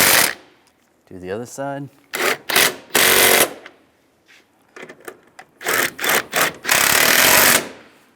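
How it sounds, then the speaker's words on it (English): Bolts are tightened down on a 2007-2013 Chevrolet Silverado antenna base with a power tool, heard as bursts of loud buzzing ratchet rattle in short runs, with a brief spoken remark in between. "we're going to tighten these bolts down on the side first"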